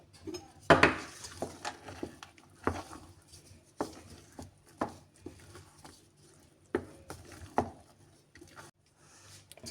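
Raisins and cranberries being mixed into cake batter by hand in a bowl, giving a series of soft scattered taps, clinks and scrapes spread through the stretch, close and fairly quiet.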